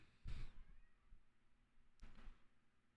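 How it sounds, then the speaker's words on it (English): A cat meows outside a door, two short, faint cries about two seconds apart against quiet room tone. "Cat is outside the door, meowing up a storm."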